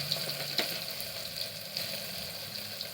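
Tomato fries with spices in a pan, giving a soft, steady sizzle with a few faint clicks of stirring, quiet and close with no talking.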